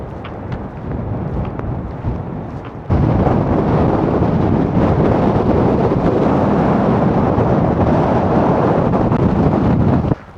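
Heavy wind buffets the microphone at Tintagel on the coast in a constant low roar, growing louder after a few seconds and staying intense throughout.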